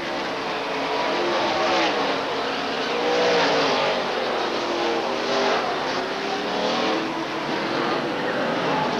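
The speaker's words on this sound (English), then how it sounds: "Let's check from Kevin LePage's channel lock onboard camera as he goes into 3, starts off 4" A 1998 NASCAR Busch Series race car heard from its onboard camera, the engine roaring continuously under acceleration through the turns at a race, with a commentator talking over it.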